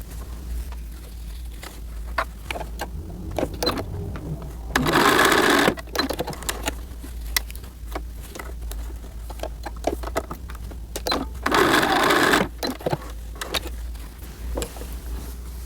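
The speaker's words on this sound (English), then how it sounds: "go ahead and sew your dart in" Sewing machine stitching darts in a small doll dress, two loud whirring runs of rapid needle pounding about a second each, with quieter fabric handling and clicks between them and no speech.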